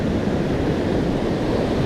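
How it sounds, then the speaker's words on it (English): Shore break waves on a California beach during surf fishing, a continuous loud broadband rush of surf with some wind noise and no distinct breaks or voices. "Oh, that shore break?"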